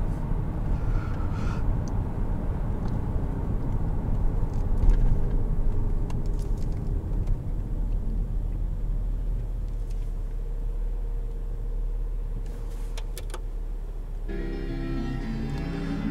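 A 2010 Buick Lucerne CX rounds a corner at about 40 mph, heard as a steady, close cabin rumble of engine and road noise that holds even for sixteen seconds, with faint brief interior sounds near the end.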